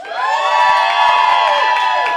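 Studio audience at a game-show vote cheering and shouting loudly and continuously, a dense wash of excited voices and whoops with clapping mixed in, steady and close throughout.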